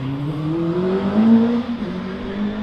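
A 2-litre Formula Ford race car climbs the hill at Loton Park, its engine droning loud and steady as it passes near, pitch rising then dropping slightly as it moves away.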